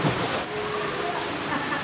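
Steady rain falling outdoors, a dense even hiss of drops filling the whole stretch at a constant level, close and fairly loud, with no talking.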